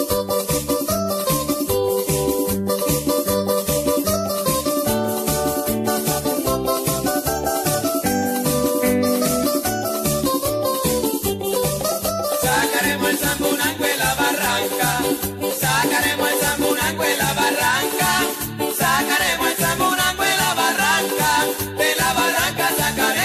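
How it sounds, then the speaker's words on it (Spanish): A mariachi band plays a ranchera song, with a steady dense strummed and bass pulse beneath bright melodic lines, continuous and full throughout with no talking. "donde lo reciben con el mejor mariachi, que le entona una canción ranchera la cual suena así."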